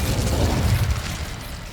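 The Incendio fire spell from Hogwarts Legacy erupts as a deep, rumbling blast that swells, then gradually fades and thins out.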